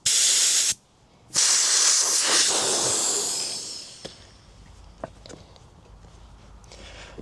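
Compressed air rushes out of a motorcycle tyre valve with the core removed, a loud, close hiss that briefly stops, then resumes and gradually fades to faint clicks and taps.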